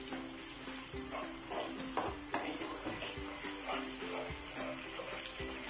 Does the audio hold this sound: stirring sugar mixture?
yes